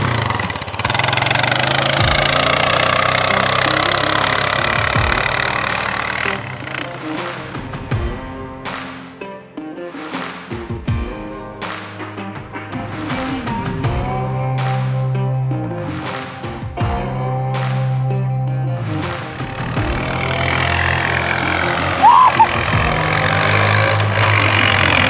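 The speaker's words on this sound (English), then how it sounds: "So we're gonna attach it to the end, the back of the four wheeler. So we're just gonna ride around," An ATV four-wheeler engine runs outdoors in snow while pulling a sled, idling and then revving in uneven surges with some clattering, fairly close.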